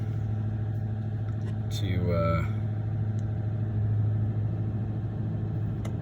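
A diesel engine held at 1600 RPM during DPF regeneration, a steady low idling hum throughout, with someone talking over it.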